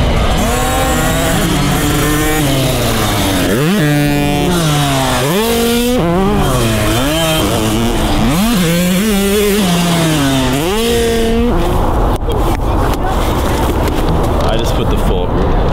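A dirt bike engine revs hard and close as it is ridden, its pitch sweeping up and down through repeated throttle bursts and gear changes, with wind rush growing toward the end.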